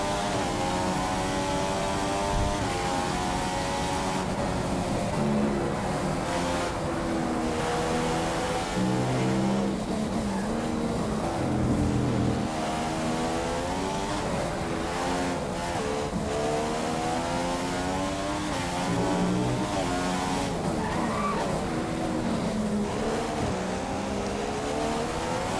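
An F1 2015 race car engine is short-shifted in the game, a high tonal whine climbing and dropping in repeated gear changes, steady and close throughout with faint tyre noise beneath.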